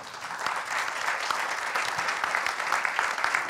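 Sustained applause from a conference audience at a plenary session of a Tunisian forum, dense and steady clapping throughout with no voices over it.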